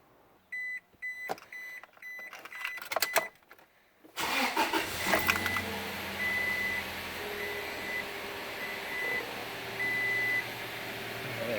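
A 2006 Toyota Tacoma with a 2.7 liter engine after a spark plug change: first a series of dashboard chimes and beeps, then the engine cranks, catches, and settles into a steady, smooth idle heard up close.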